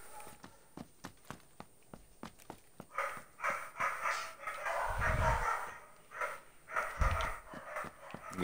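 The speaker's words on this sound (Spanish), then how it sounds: "ya me tienen hasta la madre los perros" Dogs bark outside a window in bursts, a string of sharp repeated barks at first followed by busier mixed barking and thuds, fairly faint and distant, with no speech.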